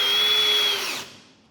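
A power drill with its clutch engaged spins steadily for about a second, snugging a painter stick down, then winds down and fades out; close and loud, with no talk.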